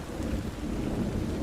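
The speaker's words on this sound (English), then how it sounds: "Y'all hear that little thunder?" A soft, low rumble of thunder rolls continuously beneath steady rain, a faint distant grumble layered with the hiss of falling water, with no voices.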